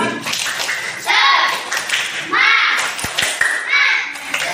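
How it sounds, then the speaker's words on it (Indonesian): A class of schoolchildren performs a rhythmic spirit clap in a classroom, with several bursts of unison clapping and chanting voices in a short patterned sequence, loud and close. "Tepuk semangat."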